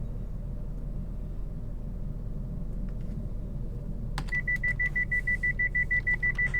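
On a West Midlands Class 170 Turbostar in Train Sim World 5, a door clunks shut, then a rapid run of evenly pulsed door-closing buzzer beeps sounds over the steady low engine hum.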